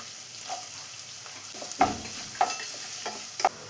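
Chopped onion and carrot sautéing in a pan for Kerala-style semiya upma: a soft, steady sizzle with three sharper spatula scrapes and stirs spaced about a second apart, close and moderately quiet, with no talking.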